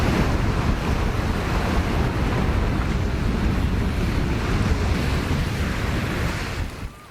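Sea waves wash onto the beach at Fisherrow, Musselburgh in Scotland, a constant loud roar of surf mixed with heavy wind buffeting the microphone, easing off only at the very end.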